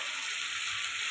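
Onions sizzle steadily in a pan as they fry until reddish-brown for a Bengali mutton and potato curry, giving a close, even hiss with no pauses.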